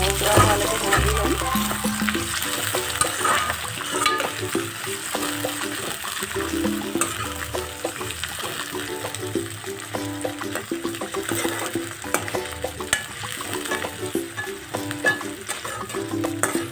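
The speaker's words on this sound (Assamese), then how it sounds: "পিঁয়াজটো ৰঙচুৱা হোৱালৈকে ভাজি ল'ম।" Chopped onions fry in a pan until reddish, a steady close sizzle with occasional stirring scrapes, while someone talks and soft background music plays.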